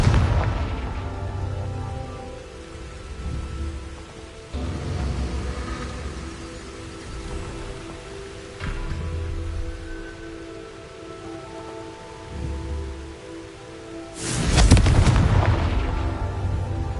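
Confringo spell explosions in the Hogwarts Legacy video game, several deep booming blasts spaced a few seconds apart, the last one loudest, over a rainy, rumbling background.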